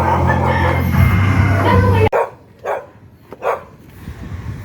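A dog at a Philippine fiesta barks three times at moderate distance, just after a loud engine-like rumble cuts off abruptly.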